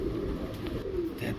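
Large pigeons for sale, including red and Danish breeds, cooing in low, steady, overlapping murmurs close by, with a busy market hum and no talk.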